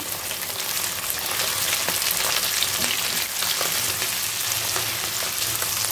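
Small cut shrimp fry in hot oil with onion and green chili, giving a dense, continuous sizzling hiss with a crackly, rain-like texture, close and steady throughout with no talking.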